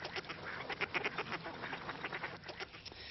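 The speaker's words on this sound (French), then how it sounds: "Voilà nos astucieux palmipèdes condamnés à ramer en attendant le redoux." Ducks paddling on partly frozen water in winter, a flurry of repeated quacks and honking calls in quick uneven bursts, fairly close and continuous, with no talking over them.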